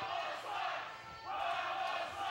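A partisan wrestling crowd chants in unison, rising and falling in two loud waves of massed voices that fill the room at a steady distance.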